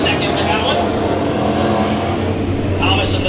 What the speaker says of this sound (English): that, folks, are just the IMCA Sport Mods racing here tonight